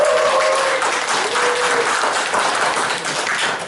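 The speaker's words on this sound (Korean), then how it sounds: "네, 환영의 박수 부탁드리겠습니다." Welcoming applause from a seated audience at a lecture gathering in a Gumi café gallery, a dense, steady wash of many hands clapping close by for the full stretch, with a brief tonal voice early on.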